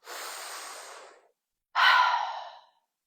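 Two long, deep breaths, each a slow airy rush through the nose and mouth followed by silence, close to the microphone during a guided breathing exercise, with no talking over them.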